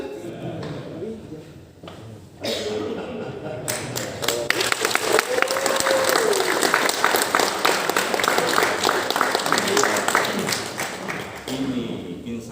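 Audience at a motivational workshop bursts into applause: after a brief lull, loud, dense clapping starts abruptly and continues steadily for about ten seconds, with a voice talking over it.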